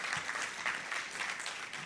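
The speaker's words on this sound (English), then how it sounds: "let's get an applause for Dr." Guests at a doctoral alumni reception and mixer applaud for Dr. Gomez, a soft, fairly distant, continuous patter of many hands clapping with no voices over it.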